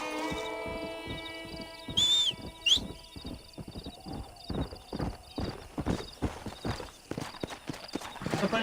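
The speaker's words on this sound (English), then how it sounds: "Apareceu outro cavalo agora" Horse hooves clip-clopping in Red Dead Redemption, a run of crisp, close hoofbeats after a short whinny, with faint voice beneath.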